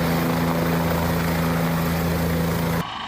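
A helicopter carrying fish to a mountain stream release point, its steady loud rotor and engine drone running close and continuous before cutting away abruptly near the end.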